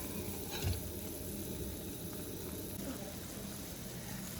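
Steady bubbling and sizzling from sugar syrup simmering in a pot on the stove, a continuous low rumble with a faint clink near the start.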